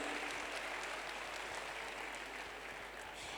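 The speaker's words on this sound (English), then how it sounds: "I get a big warm applause for our sponsors and also our media partners" Sustained applause from a conference audience at the closing plenary of CIFP 2019, honouring sponsors and media partners. The clapping stays dense and steady throughout, with no talk over it.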